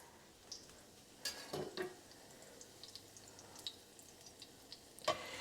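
Zucchini blossom fritters frying in a pan, a faint steady sizzle broken by a few sharp ticks and pops, close and quiet with no voices.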